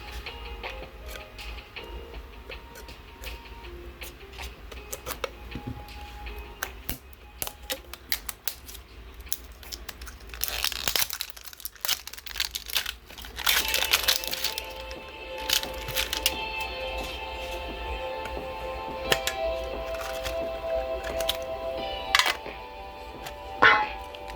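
Pokémon card booster packs, Ascended Heroes and Dragonite packs among them, being torn open and handled up close: a long run of crinkly foil tearing and card flicking, with a busier burst of crackling rips in the second half.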